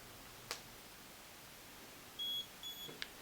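Two short electronic beeps from a HiSmile teeth whitening light timer marking the end of ten minutes, a steady tone followed by a slightly broken one, in a quiet room with a couple of faint clicks before and after.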